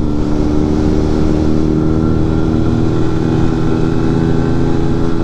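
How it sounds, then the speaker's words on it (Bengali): Suzuki Hayabusa superbike, white, idling or running nearby in a street alongside a Kawasaki Ninja H2, giving a loud, steady, deep engine drone with a constant hum throughout. "ভাই বুসাটাও হেভি সাউন্ড দিচ্ছে"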